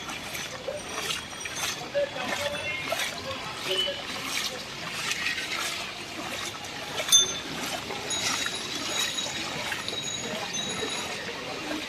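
Floodwater runs through a street in Jatrabari, Dhaka after heavy rain, a steady broadband wash and trickle that carries on throughout with faint city background noise and one brief louder knock.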